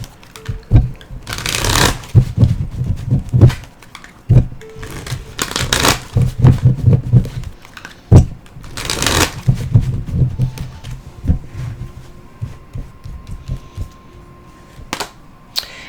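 A deck of Good Tarot cards by Colette Baron Reid being shuffled in repeated bursts of riffling and slapping cards, with short pauses between rounds, close and fairly loud, with no talking.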